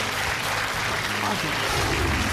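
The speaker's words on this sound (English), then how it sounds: "A round of applause, please, for Alexis and Henry." A studio audience on a game show claps in a thick, sustained burst of applause, steady and close throughout, with no pause in the clapping.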